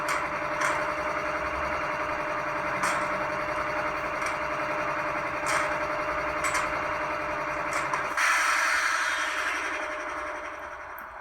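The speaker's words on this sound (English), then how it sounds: "F23 is our engine hood doors." Hood door effect from a LokSound v5 DCC sound decoder in a ScaleTrains Rivet Counter ES44AH CPKC model diesel locomotive: several sharp metallic clicks punctuate a steady idling engine drone, and the tone shifts abruptly near the end.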